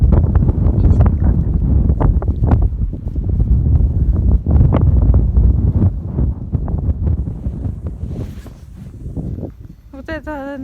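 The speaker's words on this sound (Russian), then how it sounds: "Еще тем более дует ветер, меня постоянно сносит." Strong wind buffets the microphone at a hilltop abandoned factory, a steady loud roar with gusts that stays under a voice talking throughout.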